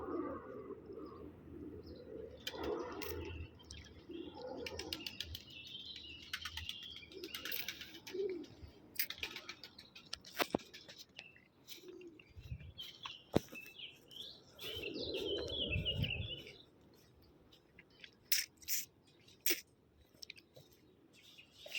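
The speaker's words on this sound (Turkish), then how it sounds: "Çok güzel bir kuş ya." Birds calling and cooing nearby, scattered chirps over low cooing, with occasional handling clicks and rustles and some quiet stretches.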